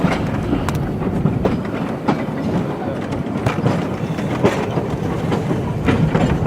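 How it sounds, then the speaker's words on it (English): A Cumbres and Toltec narrow-gauge steam train, locomotive #315 hauling freight, rolls steadily past with continuous rumble and rhythmic clickety-clack of wheels on rails, loud and close throughout. "we got the regular scheduled train approaching us real quick"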